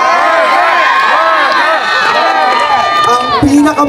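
A dense concert crowd at a night performance in Santa Maria screams and cheers loudly and continuously, a roaring wall of shouting voices close by.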